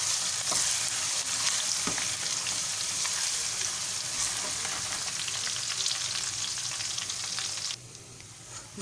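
Crushed garlic and spices fry with browned onions in a pan while cooking keema matar, giving a loud, continuous sizzle with occasional stirring scrapes and no talk.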